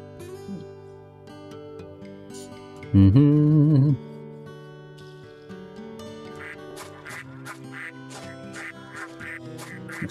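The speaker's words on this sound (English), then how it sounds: "Stuck on the bloody birds." Cartoonish duck-like quacking from birds in the video game Baten Kaitos: Eternal Wings & The Lost Ocean, one loud burst near the start of the clip, heard over looping game music with chiming notes.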